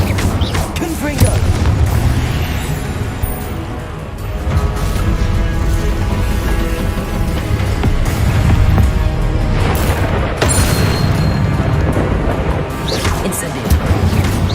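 Repeated fiery spell blasts from the Confringo curse in Hogwarts Legacy, heavy booming explosions layered over continuous combat noise and music, loud and dense throughout.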